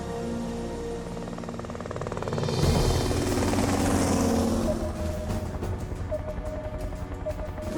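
A helicopter flying low over sea near a glacier, its rotor chop and engine whine steady and loud, swelling louder partway through before settling into a rapid pulsing thrum, with no talking.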